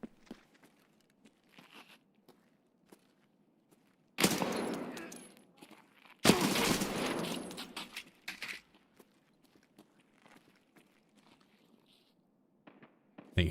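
Gunfire in the shooter Escape From Tarkov: two loud bursts of rapid automatic shots, each about two seconds long, standing out against near silence and scattered faint clicks and rustles.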